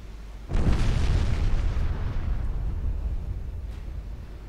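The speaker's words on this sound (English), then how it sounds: "At least it scored a regular torpedo hit as well." A torpedo strikes a warship in Ultimate Admiral Dreadnoughts, giving a sudden deep boom followed by a long rumbling roar that slowly fades.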